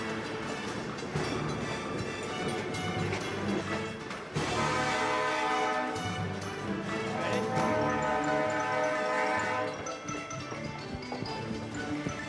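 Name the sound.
train passing on rails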